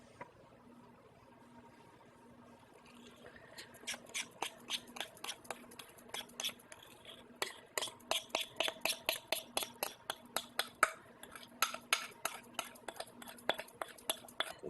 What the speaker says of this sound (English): Now we're going to mix this where it's not lumpy.